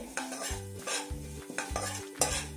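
Rava (semolina) being stirred and roasted in a pan on a low flame, with repeated scraping strokes of a spoon against the pan in a steady rhythm and a soft sizzle underneath, close and alone.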